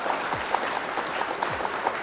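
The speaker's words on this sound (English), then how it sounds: "round of applause for our opponents" A canned applause sound effect plays during a livestream, a faint, steady patter of clapping that runs briefly with no talk over it.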